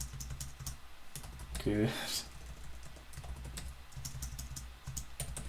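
Quick, irregular clicking on a computer keyboard while lyrics are typed, with a short burst of faster keystrokes partway through; a voice speaks briefly over the tapping.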